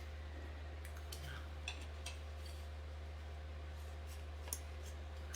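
Soft, sparse snips of scissors cutting paper leaf shapes for handmade cards, faint little clicks scattered over a steady low hum, with no one speaking.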